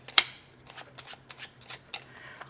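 Tarot cards are shuffled close by in quick soft riffling flicks, a series of short papery bursts with small pauses between them.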